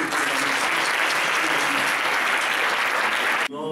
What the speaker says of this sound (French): Donc je voudrais qu'on les applaudisse.